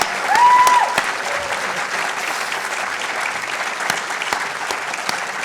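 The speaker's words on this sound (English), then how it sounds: "join with me in giving you a round of applause" Sustained applause from an audience at a winter graduation ceremony, steady and fairly loud throughout, with a brief louder swell near the start.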